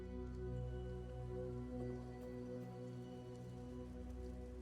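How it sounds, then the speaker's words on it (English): Steady rain falls outdoors as a continuous wash with no pauses, layered over a low, constant background hum. "it started raining"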